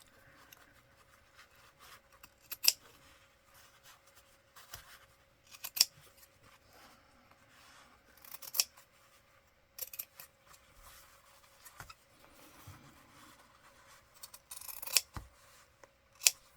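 Scissors snip away denim beneath a patch on a soft thrifted-denim cover, a series of quiet, separate cuts spread across the stretch, close and crisp.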